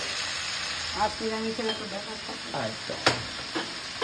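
Spinach frying in a pan with turmeric is stirred, a steady sizzle broken by scraping spoon strokes and soft clinks, close and fairly loud.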